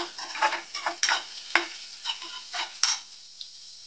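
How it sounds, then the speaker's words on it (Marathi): Browning onions with salt are sautéed in a pan, a soft sizzle punctuated by about eight rhythmic scraping and clinking strokes of a spatula, close and clear. "थोडंसं मी मीठ ॲड करून घेतो त्याच्यामध्ये आणि परतवून घेऊ आपण"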